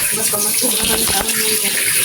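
Water gushes steadily into a cooking pot of ginataang tulingan with vinegar and bell pepper, a close, continuous pour from start to finish.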